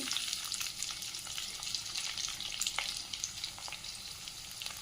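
Cumin, chopped onion and green chillies frying in hot oil, a dense continuous crackling sizzle heard close up with faint spatters, no voices over it.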